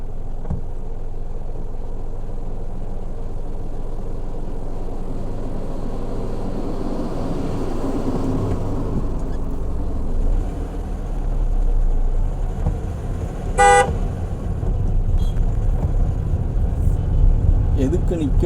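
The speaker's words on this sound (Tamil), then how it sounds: "லாரி வருது" A lorry on a narrow hill road, heard from inside a car, a steady engine rumble that swells as the heavy vehicle draws near and goes by, with a brief high tone partway through.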